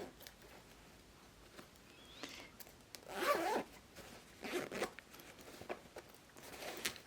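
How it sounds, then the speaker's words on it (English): A zipper sewn into a handmade fabric fanny pack is pulled open and shut in a few quick, close rasping strokes against a quiet room, with no voices. "My zipper is now attached. I'm going to check to make sure it opens properly."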